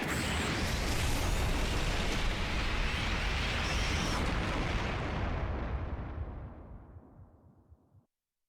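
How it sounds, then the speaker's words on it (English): A massive explosion in the video game Master Detective Archives Rain Code roars as a dense, sustained rumbling blast lasting several seconds, loud throughout before fading out to silence. "Oh, okay, it's exploding."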